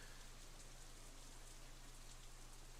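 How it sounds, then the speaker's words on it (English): Raindrops drum on an umbrella during a rainy picnic in Katawa Shoujo, a faint, dense, continuous wash of pattering with no voices. "Raindrops hitting the umbrella makes a distinctive sound."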